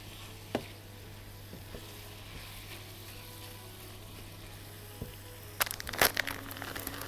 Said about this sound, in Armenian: լավ խառնում եմ, որպեսզի այդ համերը բոլորը տարածվի։